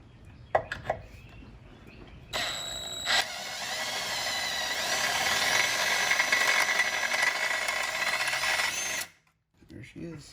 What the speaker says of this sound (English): you're just supposed to drill out the bottom rivets